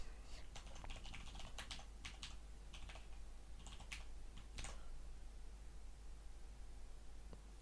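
Typing on a computer keyboard: quick clusters of light key clicks in the first five seconds, then near quiet with one last tap, faint and close over a low background hiss.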